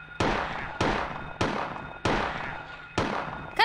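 Five sharp gunshots in Silent Hill ring out one after another at roughly even intervals, each loud crack trailing off into a short echo.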